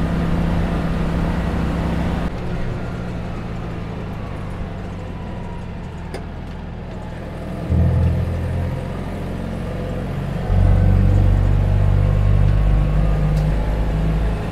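A British-assembled 1955 Citroën 2CV with a 425cc engine and ripple bonnet, run flat out on a Tasmanian road: a steady, loud, buzzing drone that climbs in pitch and surges louder twice as the throttle stays pinned.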